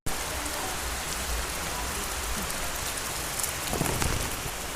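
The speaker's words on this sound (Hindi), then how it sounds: "बारिश बहुत तेज हो रहा है यार" Heavy rain pours down steadily and loudly on surfaces outdoors, a dense unbroken hiss of drops with a slightly stronger burst near the end.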